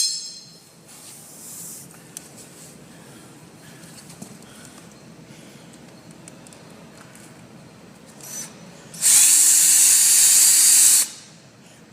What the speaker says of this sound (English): Now we're going to drill our holes